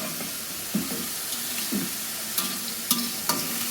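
Home cooking being stirred in a pan, with a continuous sizzle and a few soft scrapes and taps of a spoon against the pan, close and moderately loud, with no talking.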